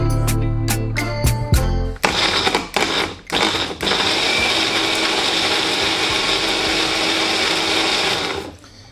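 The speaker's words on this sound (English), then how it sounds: "So we're just going to cover this up and blend this." A blender whirs loudly and steadily for several seconds as it purees guacamole, following a few short bursts and pulses at the start before the motor settles into a continuous whine, then stops.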